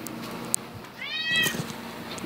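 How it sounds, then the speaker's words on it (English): A house cat gives a single short meow, close by and clear over a quiet room, with a faint click just before. "Stupid cats."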